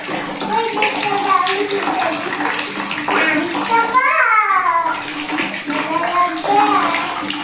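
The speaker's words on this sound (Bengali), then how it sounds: "এটা ঠিকই ইনস্ট্যান্ট গিজার। বেশিক্ষণ লাগছে না তো, জল গরম হইতেছে তো।" Water gushes steadily from an instant electric geyser, a continuous splashing flow under a child's and an adult's voices talking over it.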